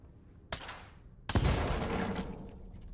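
Two gunshots in the video game STALKER 2, a sharp report followed by a louder second blast whose echo rolls on for about a second before fading.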